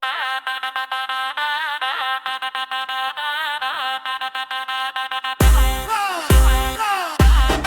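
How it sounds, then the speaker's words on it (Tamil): A mobile phone ringtone plays a bright, repeating melodic pattern of short tones, loud and close, then grows fuller and bassier in its last few seconds with heavy low thumps. "உன் ஃபோன் தான்டா அது."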